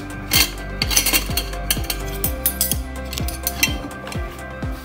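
Plates and a spoon handled while washing up, with a run of bright metal-on-ceramic clinks and taps at a fairly steady rhythm, close and clear with no talking.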